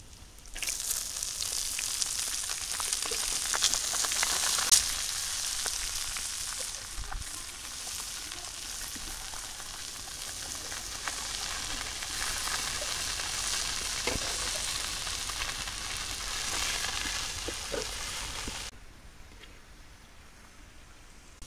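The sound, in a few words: leafy greens (shak) frying and sizzling in a pan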